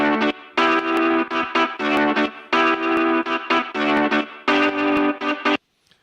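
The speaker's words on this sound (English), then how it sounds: "So it's a real guitar that's being played on a keyboard." A sampled real guitar played from a keyboard in an Afro House production rings out in bright, distorted, chorus-tinged phrases with rhythmic stops, then cuts to silence at the end.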